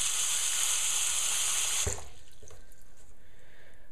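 A bathroom sink faucet runs in a steady, bright hiss as water fills the bowl, then cuts off abruptly partway through, leaving a faint drip and quiet room tone.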